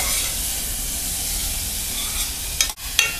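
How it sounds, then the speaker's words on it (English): Onions for leek and potato soup sizzle steadily in a pan as they brown, a constant close hiss with a couple of brief clatters near the end. "So right now I'm cooking my onions till it's nicely brown."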